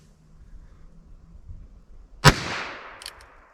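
A handgun fires a single CCI Stinger 32 grain .22 LR round, one sharp loud crack with a short ringing tail, followed by faint clicks, with quiet room noise before it.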